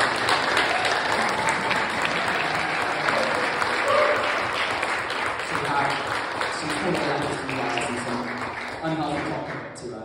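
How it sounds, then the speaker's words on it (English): A conference audience in London claps in a dense, sustained round of applause that holds steady for about ten seconds, with faint voices mixed in. "can we give a massive, massive round of applause to the team and those who are out there."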